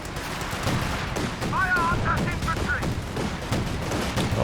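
Rapid flak panzer gunfire rattles through a Company of Heroes 2 battle, dense overlapping bursts under a busy in-game soundscape with brief whistling tones, while a voice talks over it.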